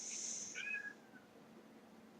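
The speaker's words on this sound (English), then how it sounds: "You can hear my cat outside the door," A cat meows just outside a door in a quiet room, a couple of short, faint cries that rise and fall, followed by a brief high squeak near the end.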